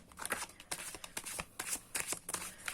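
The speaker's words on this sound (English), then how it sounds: "I'm just giving the final shuffle to the cards." Tarot cards being given a final shuffle, a rapid papery riffling that comes in close, uneven bursts with brief pauses between them, on its own with no talking.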